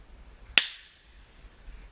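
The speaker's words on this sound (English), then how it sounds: "They're crazy little fireworks, little firecrackers." A single sharp crack from a small firecracker set off outdoors, loud and sudden, with a brief ringing tail that fades quickly into quiet background.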